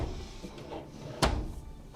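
Aluminum full-extension ball-bearing drawer glide in a 2014 Winnebago Via 25P motorhome, heard as a single sharp knock or thud as the drawer hits its stop when pulled fully out, over quiet low room noise.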